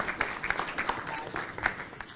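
A small audience at an esports careers event claps with scattered, uneven hand claps, fairly faint, with a little background chatter.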